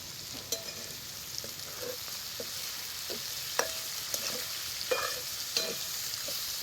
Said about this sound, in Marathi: आता ह्याच्यात एक जिरं मोहरी एक चमचे टाकायची.